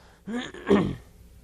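A man clears his throat close to the mic, a short two-part rasping hack lasting under a second, alone without talk.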